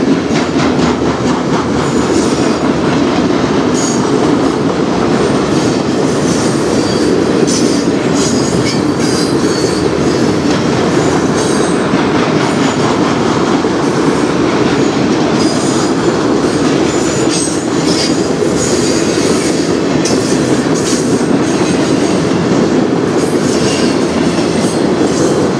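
CN freight train cars rolling past close by on the Strathroy Subdivision, a loud, steady rumble of wheels with rhythmic clickety-clack and occasional squeals, continuous throughout.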